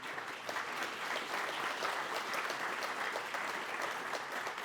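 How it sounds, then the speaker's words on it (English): A ceremony audience at an outdoor unveiling claps for honored families. The applause is soft and distant but steady, with a continuous patter of many hands throughout. "How about applause for these?"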